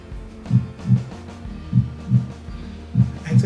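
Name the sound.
heartbeat sound effect played in OBS Studio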